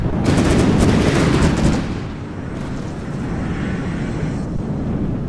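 Rapid automatic gunfire and shelling from vehicle-mounted weapons in a combat video game, a loud dense barrage for about two seconds, then a continuous rumbling roar of sustained fire.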